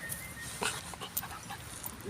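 A dog pants rapidly up close, with a few small whimpers and yips mixed in over light background noise.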